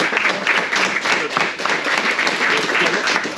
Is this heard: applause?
yes